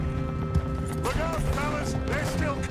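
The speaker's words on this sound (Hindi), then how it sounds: "मेरा घोड़ा आउट ऑफ कंट्रोल जा रहा है भाई" Horse hooves gallop in Red Dead Redemption 2, a steady run of clip-clop beats carried under game music and a continuous layer of background sound.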